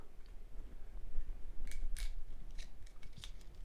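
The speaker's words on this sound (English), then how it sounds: "I remove it completely and pretty quickly by going straight down with my knife" A knife slicing straight down through the foil cap on a bottle of Cortese di Gavi white wine, giving a few faint crinkly scrapes and tearing rasps over about four seconds with no talk.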